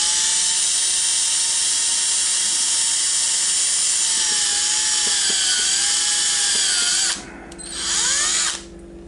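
A power drill bores into a plastic hockey mask with a loud, close, steady high whine, briefly cutting out and spinning back up near the end, with no voices.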